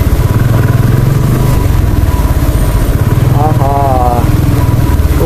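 Royal Enfield Bullet motorcycle engine running steadily with a continuous low thumping drone throughout, heard up close while people talk over it.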